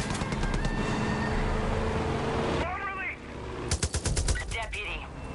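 Rapid machine-gun strafing from a helicopter in Far Cry 5, a dense loud burst of fire over engine noise at first, then after a short break a few separate heavy bursts and shots.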